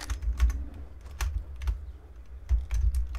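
A computer keyboard clicks in short bursts of typing, quick taps bunched together with brief pauses between them, close and fairly quiet, with no talk.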